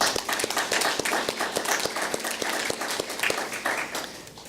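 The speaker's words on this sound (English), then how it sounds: "So just wanted to give them a round of applause." Applause from the audience at a school board of education meeting, a dense, steady clatter of many hands clapping that holds for several seconds before tapering off slightly at the end.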